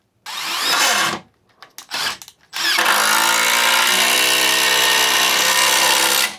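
Milwaukee M12 compact impact driver sinking 2.5-inch construction screws into 2x6 lumber: a short loud burst, a few brief stuttering bursts, then one long sustained high-pitched driving run, close and loud with no talking.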